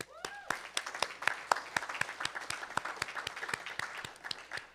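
Applause from an audience at a faculty poetry presentation, faint and somewhat distant, a steady run of distinct individual claps, fairly sparse, carrying on for several seconds without talk.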